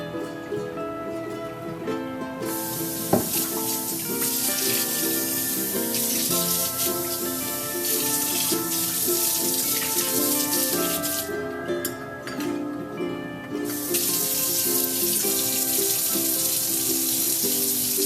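Hot tap water runs steadily into a container during a nuno felting process, a continuous close rushing splash that lasts the whole stretch with brief dips in intensity.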